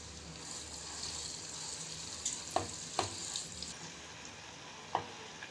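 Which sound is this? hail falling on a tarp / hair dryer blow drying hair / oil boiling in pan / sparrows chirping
oil boiling in pan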